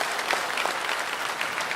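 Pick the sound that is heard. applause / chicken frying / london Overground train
applause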